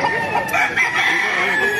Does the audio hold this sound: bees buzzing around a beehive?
no